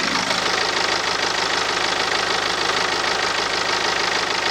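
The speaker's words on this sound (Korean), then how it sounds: "엔진룸 열어놨고요 엔진 소리 한번 들어볼게요" A BMW 520d twin-turbo diesel runs at a steady idle with its engine bay open. It gives a loud, close, even clatter that continues throughout with no talking.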